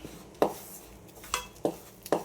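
Fish fry masala and lemon are mixed in a bowl, giving a few sharp, quiet clinks and scrapes spaced irregularly in a near-silent kitchen.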